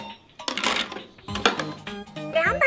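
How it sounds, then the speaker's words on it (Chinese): A small toy soup pot is set onto a miniature kitchen stove, a few light clinks and clatters of small utensils, close up. A voice and other talk break in between the clinks. "换一个汤锅。"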